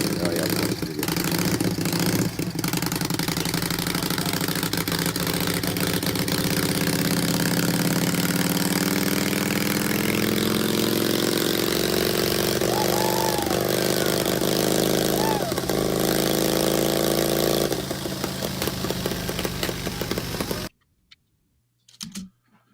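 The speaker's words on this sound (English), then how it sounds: "this is probably my only chance I'm going to get the Thor on a dyno" A Thor motorcycle engine running hard on a dyno gives a loud, sustained mechanical roar with rising pitch for about twenty seconds, then cuts off abruptly into near silence.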